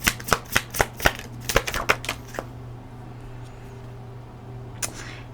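Tarot cards shuffled by hand, a quick run of about a dozen crisp, close riffling snaps for two seconds, then near quiet with one last flick.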